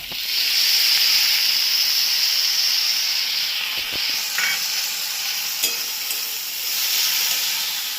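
Spice paste sizzles and hisses loudly in a hot pan for a Bengali banana stem ghonto, a steady close frying sound with a few light stirring clicks and no speech.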